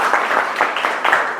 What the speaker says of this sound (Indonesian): tepuk tangan dulu untuk Bagus